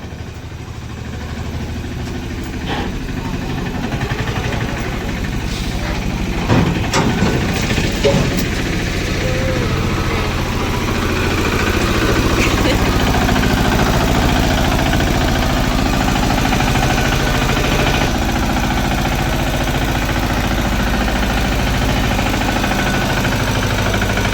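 An aging tractor engine idles nearby in a steady, loud mechanical drone with slight rough pulsing and a few knocks and clatters, running continuously without talk.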